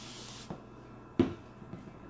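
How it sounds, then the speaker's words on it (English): A spray bottle puffs water onto a board for cleaning: one short, close hissing burst, then a couple of soft knocks and a light tap in a quiet room. "All you really need to do is spray the water,"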